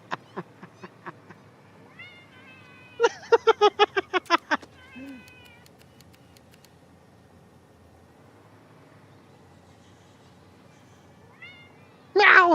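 Cat meows from a game, a few short calls, then a quick run of repeated rising meows, and a louder burst at the very end, set against quiet ambient hum.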